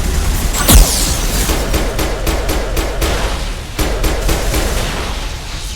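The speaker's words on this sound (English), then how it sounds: "Oh god, they're shooting me." Rapid gunfire crackles through a firefight in Mass Effect Legendary Edition, with one sharp close shot early followed by repeated bursts of shots and impacts, loud and continuous.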